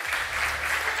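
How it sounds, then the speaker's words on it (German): Brief burst of studio audience applause on a German sport entertainment show for a brothers' duel, dense steady clapping with no voices. "Applaus für unser Bruderduell"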